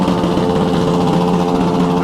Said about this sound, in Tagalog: Dalawang motor, sinisira. Sinisira yung makina para lang magingay.